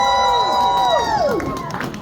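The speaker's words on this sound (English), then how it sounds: "How about some cheering?" An audience at an anime convention panel cheering, with high whooping and squealing voices rising and falling together loudly for a couple of seconds.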